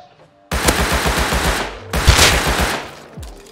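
Gunfire from the video game Rust: a rapid automatic burst of close, loud shots, a brief break, then a second sustained burst that tapers off, with faint ambient noise before the shooting begins.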